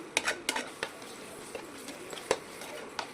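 Light scraping and clinking of a utensil against a pan of tomato thokku, a few sharp taps scattered through quiet stirring, close and fairly soft.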